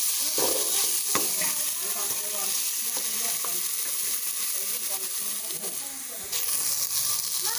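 Ingredients for a northern Thai cabbage curry dry-roast in a hot pan, giving a steady close sizzle and hiss with occasional scraping stirs and light clatter throughout.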